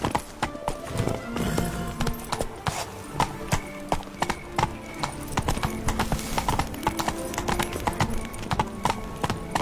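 A horse gallops in the video game Hogwarts Legacy, its hooves clip-clopping in a quick, steady rhythm close by, with a brief whinny mixed in.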